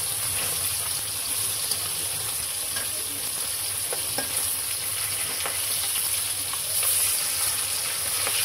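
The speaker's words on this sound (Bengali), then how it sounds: "মাছ ভাজা হয়ে গেছে, এখন উঠাই নেব।" Rui fish seasoned with salt and turmeric sizzles in hot oil in a wok, a constant dense crackling hiss with scattered pops, steady and close with no voices.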